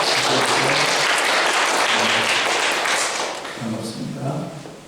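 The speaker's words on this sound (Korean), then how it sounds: "우리 큰 박수로 환영하겠습니다." A church congregation applauds during a Sunday morning worship service, a dense wash of clapping that holds steady for about three seconds and then thins out, while someone speaks over and after it.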